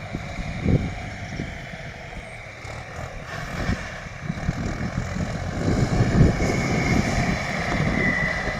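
Steady engine drone of two tractors, a Tümosan and another, working a sugar beet field nearby, a continuous low rumble that swells slightly toward the end, with occasional knocks.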